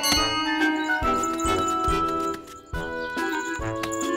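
A small hand bell rung in a cartoon, bright tinkling rings struck repeatedly in an uneven rhythm, each ding ringing on briefly, close and fairly loud with no talking.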